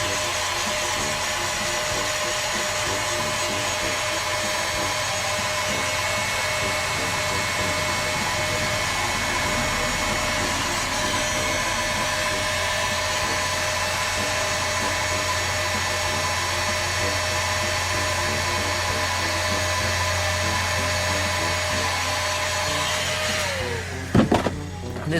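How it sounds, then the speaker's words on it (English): A heat gun blowing continuously to shrink heat-shrink tubing during ignition switch work on a VW Beetle, a steady close whooshing drone that holds for over twenty seconds before it is switched off at the end. "We got our heat gun."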